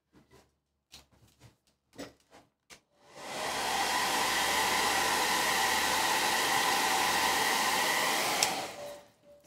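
A hair dryer blows on wet paint of autumn leaves after a few soft knocks and handling sounds, then runs as a steady, loud whooshing roar for about six seconds before cutting off.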